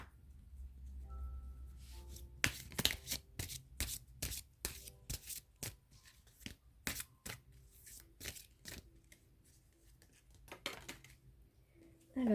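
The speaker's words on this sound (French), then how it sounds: "je vais tirer une autre carte de l'oracle des guerriers de lumière de Sandrine Müller" Oracle cards from a deck of light-warrior oracle cards are shuffled and drawn indoors, giving a quick run of crisp, close riffling flicks and slaps, then sparser card snaps and soft handling with a short pause near the end.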